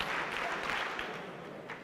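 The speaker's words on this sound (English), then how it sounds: "If you can hear me, clap 4 times." Keynote audience at a youth convention clapping together in a sustained burst, a broad wash of hand claps filling the hall for nearly two seconds at moderate level.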